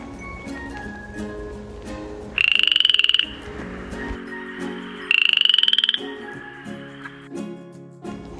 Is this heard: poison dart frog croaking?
yes